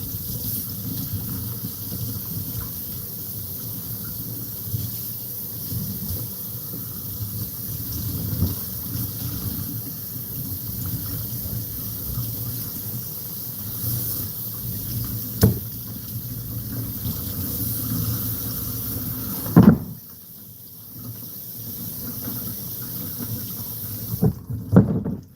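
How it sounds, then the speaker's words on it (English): Running tap water streams steadily over fresh fish being rinsed, a continuous close hiss with small splashes that cuts off abruptly near the end. "Let's quickly rinse this with running water, fresh water."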